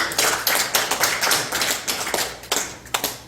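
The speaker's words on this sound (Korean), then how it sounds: "우리 다 같이 한번 박수 한번 큰 박수 한번" Irregular clapping from a small group at a church Christmas celebration, a steady patter of claps up close with a few louder individual slaps, no voices.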